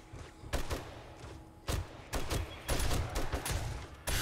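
Gunfire in 7 Days to Die, several loud close bursts of rapid shots separated by short pauses, with a heavy thump at the end and no talk over it.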